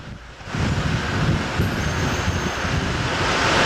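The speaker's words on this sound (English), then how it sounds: "Sure is cold and windy here." Strong, cold wind roaring and buffeting close by at a glacier, a broad rushing noise that swells after a brief quieter moment and stays loud.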